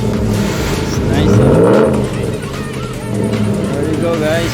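A 2020 Dodge Ram truck fitted with a new exhaust tip revs up once, swelling to a loud peak and settling back to a steady rumble, with a voice talking over it.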